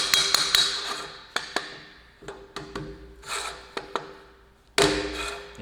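Separate sharp knocks from a rubber mallet striking welded steel pieces to bring them into alignment, close and irregular, about a dozen across the stretch and spaced unevenly with quiet gaps between them.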